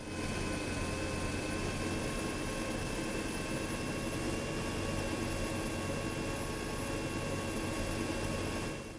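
Helicopter in the video game Arma 3 closing in slowly on a sling load: a steady, loud rotor and engine drone with a constant whine that holds throughout and gets no talking.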